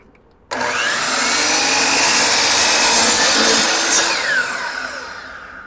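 A saw cuts through a wooden butcher block countertop, a loud, steady rasping grind that starts abruptly and runs continuously for several seconds before easing off slightly at the end, with no voices.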